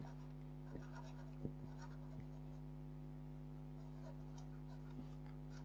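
Fine scratchy strokes from an Omas fountain pen with an extra fine nib writing in reverse on paper, faint and close, with a few light taps over a steady low electrical hum.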